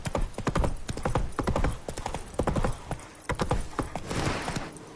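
Roach, the horse in The Witcher 3, gallops with loud, close, rapid rhythmic hoofbeats that run on throughout, with no one talking.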